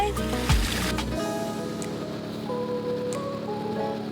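A sailboat moving under sail with the engine off on the west coast of Scotland, steady rushing water and wind noise along the hull, a low thump near the start, continuous and fairly loud.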